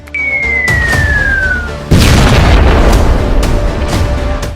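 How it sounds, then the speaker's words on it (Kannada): A deep, rumbling boom from the Nagasaki atomic bomb explosion hits after a falling whistle-like tone, followed by a sustained roar of broadband noise that fades slowly. "ನಾಗಸಾಕಿ ಮೇಲೆ ಮತ್ತೊಂದು ಬಾಂಬ್ ಅಟ್ಯಾಕ್"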